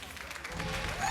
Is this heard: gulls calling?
no